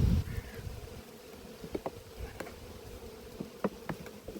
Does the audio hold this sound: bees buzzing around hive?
yes